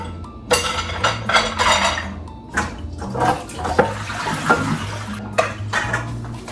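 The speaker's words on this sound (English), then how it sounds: "Tiny pot was in the sink. I'm gonna wash her real quick." A small cooking pot clatters and clinks in a kitchen sink as it is handled and washed, with running water and scattered metallic knocks of cutlery and dishes throughout, close and fairly loud, with no talking.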